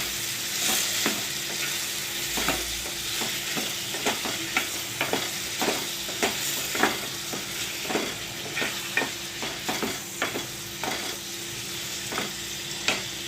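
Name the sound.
stirring turmeric into egg tomato bath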